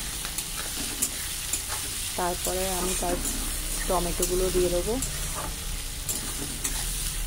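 Onions fry in a pan while being stirred, giving a continuous crackling sizzle; a voice speaks over the cooking throughout.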